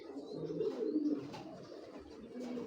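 A ringed racing-type pigeon, large-bodied with a feathered neck, coos in soft rolling low phrases close by, pausing briefly before cooing again, with no speech over it.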